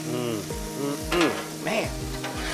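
Pork and egg fried rice stirred and scraped with a spatula on a hot Blackstone griddle, with steady loud sizzling under repeated metal scraping strokes and short squeaks, close up, no talking.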